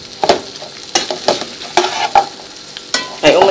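Bread frying in ghee in a pan while being stirred and turned, with sharp scraping strokes over a steady crackling sizzle.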